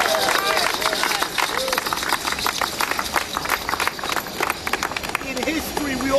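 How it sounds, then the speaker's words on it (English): An audience at a Freedom Party press conference applauds, with a steady patter of many hands clapping and crowd murmur and voices mixed in throughout. "Let's give a round of applause to Ramon Jimenez."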